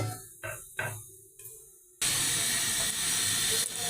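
Belpuri ingredients frying in hot oil give a few short sputtering bursts, then a loud, steady sizzling hiss that fills the rest of the moment close up.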